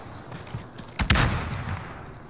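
Gunfire in the Warzone video game: a pair of sharp, loud shots in quick succession, followed by a rumbling tail and a busy, noisy game backdrop.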